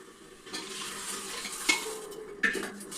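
Washed dal and rice added to a pot for khichdi, with a soft sizzle, a rattling pour, and two sharp metallic clinks of a utensil against the pot.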